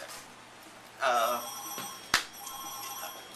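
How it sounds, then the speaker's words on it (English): A telephone rings in a room with a short electronic trill, then a brief click, heard faintly against a low background hum. "I'll answer that phone."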